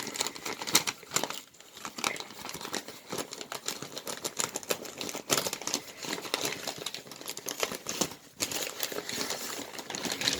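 Bubble wrap and tissue paper being unwrapped from a small craft caddy gift, a close, continuous crinkling and rustling with brief tearing rasps and short pauses throughout.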